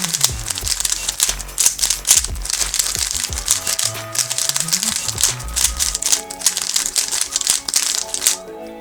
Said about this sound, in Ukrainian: Тепер покрутимо головоломку.